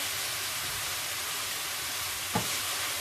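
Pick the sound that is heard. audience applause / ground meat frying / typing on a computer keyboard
ground meat frying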